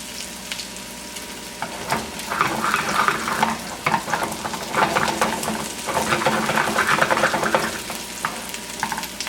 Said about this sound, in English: I'm going to add just a little bit of oil on this side just so this one's got some oil to fry in.